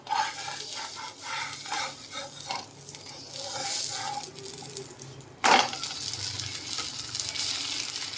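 Thalipeeth sautéing in ghee in a pan for a Shravan Monday fasting thali, with a soft steady sizzle and stirring or scraping clatter throughout, and a brief louder scrape about midway.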